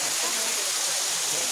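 Waterfall on the trail at Torna Fort near Pune, a steady broadband rush of falling water heard close and unbroken throughout.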